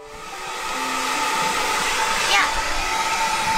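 A black hair dryer blows steadily at home, a loud continuous airy whoosh with a faint motor whine that holds even throughout, close and alone without talking.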